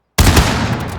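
Rifle volley fired as a military funeral salute, with a sharp, loud crack from several rifles in near-unison, followed by a booming echo and rolling reverberation that fades over a second.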